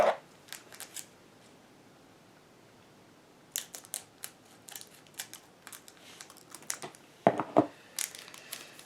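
Match Attax trading card pack being torn open, quiet crinkling foil and paper rips in scattered short bursts, sharper tearing clusters near the start and toward the end.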